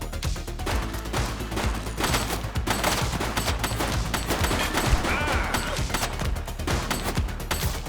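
Dense, rapid gunfire in The Precinct, a police game, with overlapping bursts and sharp shots crackling almost nonstop at close range, loud throughout with no pauses.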